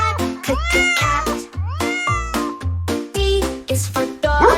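A cat meows again and again, loud and close, each call following the last in an even rhythm over a low, pulsing musical beat.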